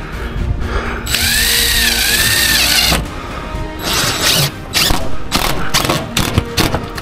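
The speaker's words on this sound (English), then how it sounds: "I gotta get down here with this drill" A power drill whines loudly on a damaged roof for about two seconds, its pitch rising and falling, followed by clattering bangs and knocks from roofing work nearby.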